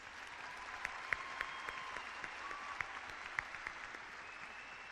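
A high school graduation audience applauds the graduating students, soft, distant clapping from a large room with a few sharper nearby claps standing out.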